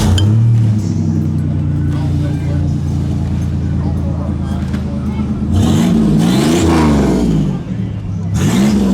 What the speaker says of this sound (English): I'm going to sneak around back so we can hear that thing when it fires up. Turbocharged Buick V6.